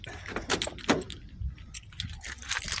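Keys jangle close by in the ignition of a 2006 Grand Prix GT during an engine swap, giving a few short metallic rattles with brief clicks and thumps between them in a quiet garage.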